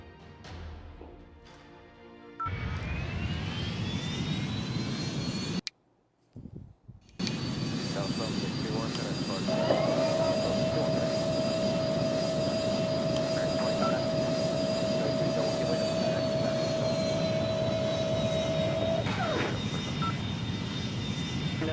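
Airliner jet engines in the mobile flight game Airline Commander, a continuous engine drone with a steady whine that cuts out briefly partway through, then returns at a constant level.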